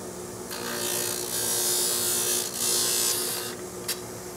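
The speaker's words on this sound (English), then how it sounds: "Back onto our cutting machine." A cutting machine trims the end of a graphite golf driver shaft, a steady high grinding whir that swells and eases over a few seconds, close and alone.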